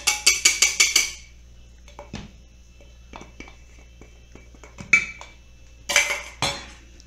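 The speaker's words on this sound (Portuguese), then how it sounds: "Inicialmente misturamos com uma espátula" A spatula works butter and egg into tart dough in a bowl, giving a quick run of five sharp clinks against the bowl, then sparse softer knocks and two louder clattering bursts later.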